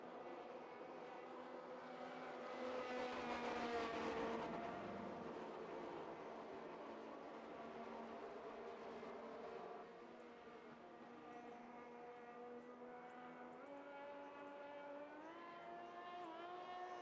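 Race cars roar around a track in Texas during green flag racing, a dense layered engine drone with rising and falling pitches as cars pass, one swelling louder nearby before easing back into steady distant howling.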